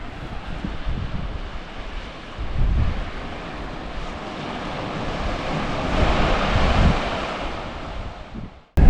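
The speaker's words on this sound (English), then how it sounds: "It actually is a bit windy." Wind sweeps across Warralty Beach in Australia, buffeting the microphone in strong gusts over a steady rush of surf, then cuts off abruptly.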